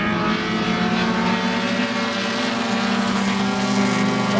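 Race cars in SCCA club racing at Sebring roar past on track, a loud sustained engine whine with layered tones that rise as they close in, steady and without voices.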